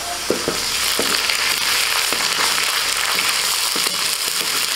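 Chopped onion and ginger paste fry steadily in hot oil for a fish-head and cauliflower curry, a dense continuous sizzle with a few stirring knocks near the start.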